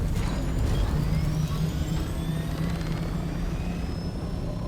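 Helicopter in the video game Dune: Awakening, a loud steady rotor and turbine roar close by, with rising whine tones layered over the continuous thrum.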